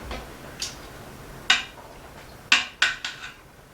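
A utensil is stirring meat and onions in broth inside an Instant Pot, making a few scattered metallic clinks and taps against the pot, spaced irregularly over quiet background hiss.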